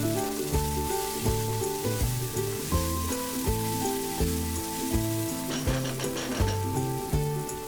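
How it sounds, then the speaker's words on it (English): Onion and chopped tomato fry in a pan, giving a steady sizzle that sits beneath loud melodic background music for the whole stretch. "Then add 1 tomato chopped and fry it until the tomatoes are soft"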